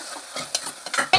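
Food being stirred and mixed in a pan while making tomato dal, a short burst of scraping, shuffling strokes of a spoon against the pan, close and fairly loud, with no talking.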